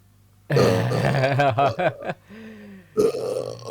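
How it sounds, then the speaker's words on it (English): A long, loud, close burp, followed by a shorter grunting burp a moment later. "Sorry for the burping."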